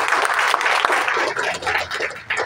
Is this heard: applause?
yes